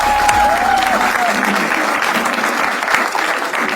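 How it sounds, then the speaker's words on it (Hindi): Audience applause at a stand-up comedy show, loud and continuous, with a dense crowd of clapping hands filling the room throughout, and a brief voice or whistle heard near the start. "तो शुरू करते हैं तालियों के साथ।"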